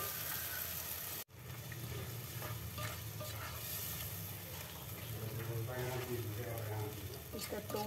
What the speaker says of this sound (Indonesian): Kita tumis sampai naik bau rempah ini kawan.